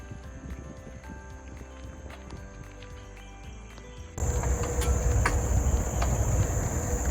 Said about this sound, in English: I can hear lots of crickets and frogs and birds.